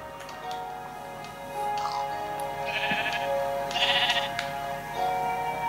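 Sheep in the Minecraft video game bleat repeatedly, a few short nasal calls over a soft, steady ticking background, fairly close and moderately loud with no voices.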